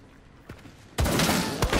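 Gunfire in the video game Hunt: Showdown: a sudden loud burst of shots kicks in midway, with a few sharp cracks after, following a quieter stretch with a faint distant shot.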